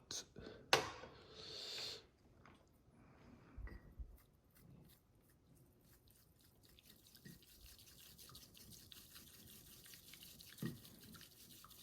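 An old bamboo chasen whisks matcha in a small tea bowl: faint, rapid scratchy swishing that builds into a steady brushing rhythm for several seconds after a sharp knock at the start.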